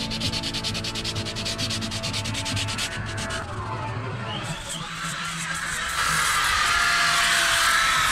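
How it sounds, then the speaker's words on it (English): A power sander grinds against a boat keel in a yard, a loud steady abrasive whir that shifts and rises in texture, with faint background voices. "Alan, do you want to sand today with the sander?"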